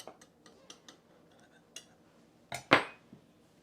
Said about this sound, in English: Then with a knife, just go across the edge, cutting off the pie crust that hangs out over.